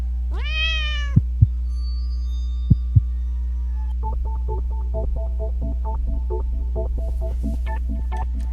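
A cat in The Cat Lady video game gives one rising, drawn-out meow. A few sharp clicks follow, then a steady electronic hum and a throbbing, pulsing rhythm.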